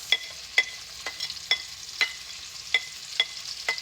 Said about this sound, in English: Cook it down into that bacon grease.